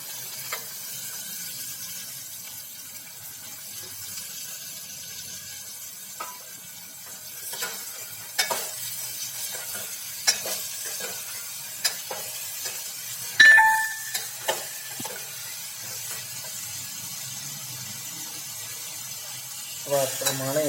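Cauliflower, potato and tomato pieces go into a hot oil tempering with asafoetida, giving a faint, low sizzle. Scattered sharp clinks of stirring and a few louder bumps sound over it, with quiet background sounds.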